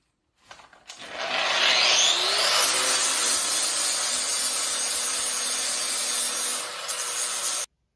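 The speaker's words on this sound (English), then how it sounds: "Flip it and then grind the other side." A grinder works the side of a broken bandsaw blade, a loud, steady, continuous grinding hiss that starts abruptly and holds for several seconds before cutting off.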